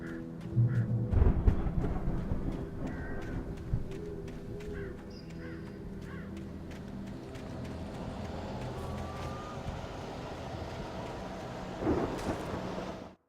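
Low thunder rumbles in a raging Alan Wake storm, with louder rolls near the start and again near the end over a steady wash of rain and scattered small noises.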